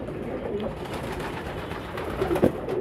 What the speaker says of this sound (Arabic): شايف الحمام نازل في المية ازاي، كل الحمام متجمع وبيحمي نفسه